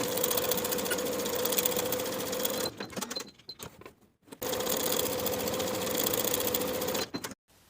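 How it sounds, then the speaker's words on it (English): A sewing machine runs steadily and loudly while stitching a pants pocket seam, pausing briefly in the middle with a few stops and starts before resuming, then cutting off at the end. "Sew with a 3/8 inch seam allowance and finish the raw edges"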